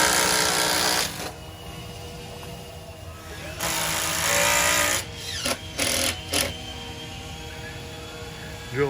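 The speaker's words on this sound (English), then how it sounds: "Drilling for the 5/8 bolts up there now through the double 2x12." A power drill bores holes for 5/8 bolts through doubled 2x12 lumber at a boathouse build, running in several loud bursts of differing length separated by quieter pauses.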